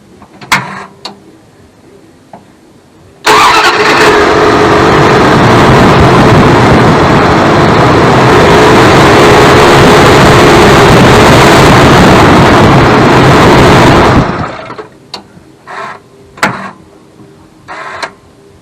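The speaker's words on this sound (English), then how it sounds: "I can get it to start, but for some stupid reason, as soon as I give it throttle, it won't go." A small engine with a fuel leak fires up abruptly and runs loud and rough for about eleven seconds, then dies off when throttle is applied, leaving quiet with a few scattered clicks and knocks.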